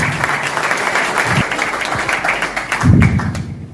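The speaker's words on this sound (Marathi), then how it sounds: "त्याच्या या कार्यासाठी एक जोरदार टाळ्या असू" An audience bursts into applause, with dense clapping running throughout and swelling louder near the end before fading.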